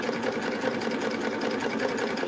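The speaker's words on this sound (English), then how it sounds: "This is going to be a little noisier." A serger running at speed with differential feed set to gather fabric into ruching, a steady, dense mechanical whir with rapid stitching pulses, close and continuous throughout.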